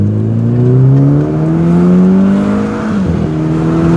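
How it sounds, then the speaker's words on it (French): A Volkswagen Polo engine revs up through the gears, the rising harmonics loud and close as it accelerates, briefly dipping at a gear change before pulling again; no talk. "Il y a un bon petit son moteur"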